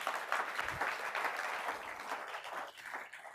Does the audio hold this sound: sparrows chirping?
no